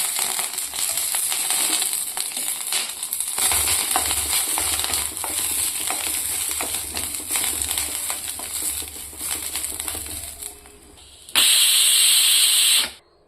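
Ingredients roast in a pan with a little oil until they turn red, giving a steady sizzling hiss with scraping stirs. A brief, louder burst of hiss follows near the end, and no one speaks.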